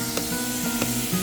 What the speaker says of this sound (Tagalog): Ano siya? Power spray.